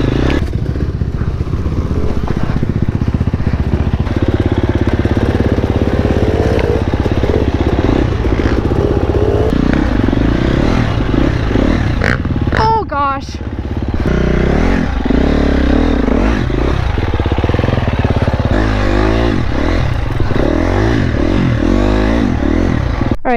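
A borrowed motorcycle is ridden over rough ground, its engine droning loud and close throughout with changes in revs, plus rattles, scrapes and wind buffeting, and a brief dip midway.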